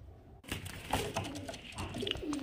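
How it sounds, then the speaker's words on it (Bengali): Pigeons coo softly in a loft, a few low throaty calls under faint rustling and background noise, fairly close but quiet. "এই যে ফ্রেন্ডস এখানে আরও দুটো পায়রা দেখতে পাচ্ছেন ম্যান্ডাজের মধ্যে।"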